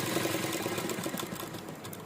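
A sewing machine runs steadily while stitching the sleeve joints of an A-line kurti, a close, continuous mechanical whir with a fine rapid rhythm and no talk.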